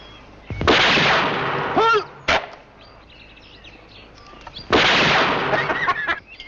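Shotgun-style gunshots fired at clay pigeons, two loud booming blasts with a sharp crack between them, each shot echoing out, while voices speak in the quieter gaps.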